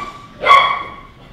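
A dog barks once, a single loud, clear bark close by with a short tonal tail, alone in a quiet room.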